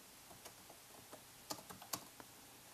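Typing on a computer keyboard, a quiet irregular run of light key clicks with a few sharper taps, close up and with no voice.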